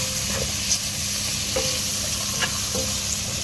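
Meatball paste browning in a pan, a steady soft sizzle with a few faint clicks of a utensil, no talking.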